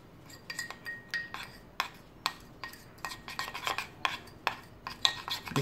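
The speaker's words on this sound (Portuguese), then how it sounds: "Misturar bem." Lemon juice mixture being stirred in a bowl with a utensil for an eggless, milkless cake batter, a run of close, quiet clinks and scrapes against the bowl in an irregular rhythm.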